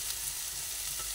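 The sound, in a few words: stirring poppy seeds into frying onions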